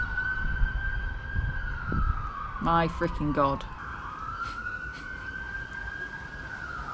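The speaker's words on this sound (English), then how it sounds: "Why is there so many sirens?" A wailing siren rises and falls steadily in the distance over traffic rumble, while a person speaks briefly partway through.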